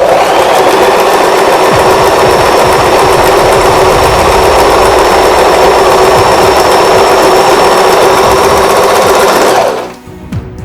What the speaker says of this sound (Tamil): இப்போ நான் ஸ்டிச் போடுறேன்.